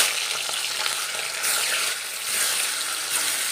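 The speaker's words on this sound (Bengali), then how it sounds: "এগুলোকে আমি খুব লাল লাল করে ভেজে নেব ভালো করে।" Tilapia fish sizzle and crackle in very hot mustard oil in a wok, a dense, steady frying hiss close up with small spattering pops, no voices over it.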